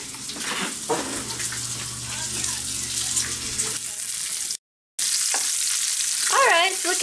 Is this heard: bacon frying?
yes